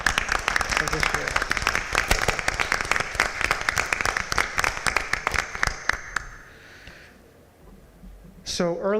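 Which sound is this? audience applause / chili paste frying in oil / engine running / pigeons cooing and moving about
audience applause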